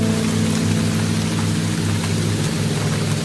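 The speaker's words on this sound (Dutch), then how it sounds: "Je hoort het. Alsof het een waterval is." Heavy rain pours down like a waterfall, a loud, dense, steady hiss of water with a low rumble underneath, alone with no talk.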